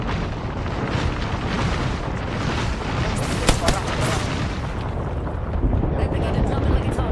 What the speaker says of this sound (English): Airstrike coming in.